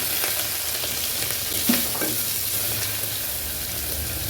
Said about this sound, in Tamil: பொடியெலாம் வந்து இப்படி இந்த எண்ணெயில் போட்டிங்கன்னா நல்லாயிருக்கும்.